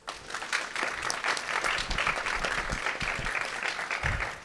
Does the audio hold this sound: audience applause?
yes